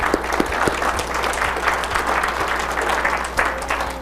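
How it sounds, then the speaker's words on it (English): Steady audience applause after a talk at a Craters of the Moon gathering, a dense wash of many hands clapping at close range, sustained and even throughout with no voices standing out. "Let's give them a round of applause back here."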